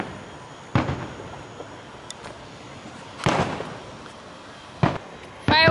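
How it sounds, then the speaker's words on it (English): Fourth of July fireworks show heard from a distance, several booming bursts spaced a couple of seconds apart over a constant background hiss of outdoor crowd ambience. "Fireworks show. Do you like the fireworks show?"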